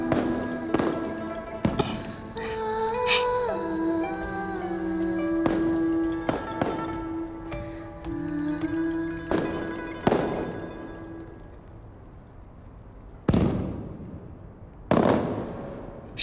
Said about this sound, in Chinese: 陪朕出去看烟花